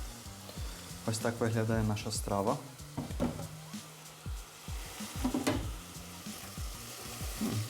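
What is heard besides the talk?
vegetables stewing for Hutsul-style bograch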